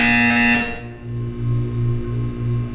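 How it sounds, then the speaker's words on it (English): A buzzer in the video game Portal 2 sounds as a steady electronic tone, then gives way to a row of low, evenly spaced buzzing pulses that repeat about five times. "When you hear the buzzer, look down at the floor."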